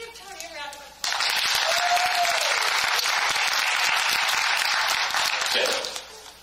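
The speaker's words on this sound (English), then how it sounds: "just give Tony a round of applause" An audience bursts into loud, sustained applause for Tony at a regional gathering, starting abruptly after a voice and holding steady for several seconds before fading out.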